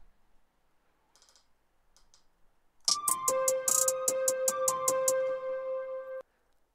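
A glitchy trap hi-hat programmed in Studio One, with a note split at the grid giving a fast, evenly stuttering burst of bright ticks over a steady synth tone, after a few faint clicks.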